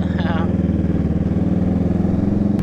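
Kawasaki Z650 motorcycle with a loud open muffler cruising on an expressway, a steady throbbing engine drone close to the rider under a voice talking over it.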